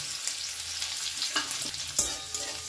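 Black cumin, whole cumin seeds, chopped green chili, garlic and ginger sizzle in hot oil for a potato-semolina nuggets snack, with a steady bright hiss broken by a few sharp stirring scrapes.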